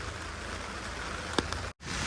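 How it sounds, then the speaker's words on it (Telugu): Rain falls outside a restaurant in Korea as a soft, steady hiss at low volume, with one brief tap and a short dropout near the end. No one speaks. "వానైతే ఆగదు రోజంతా పడతానే ఉంటుంది"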